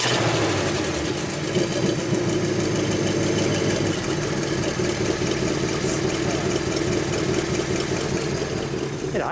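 A 1939 Cadillac Series 61 Convertible Coupe engine idles close by, a steady, even low rumble that holds without change throughout, with faint voices in the background.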